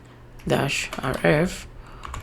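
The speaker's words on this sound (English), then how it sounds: "So you type the command" Keys clatter on a computer keyboard as a Linux terminal command is typed, a quick burst of close clicks partly blended with a voice talking.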